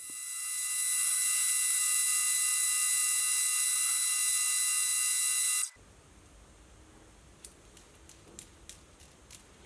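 An aluminium part spins on a lathe as its end is turned down, giving a loud, steady whine rich in harmonics that stops abruptly partway through. A few faint clicks and taps follow in the quiet afterwards.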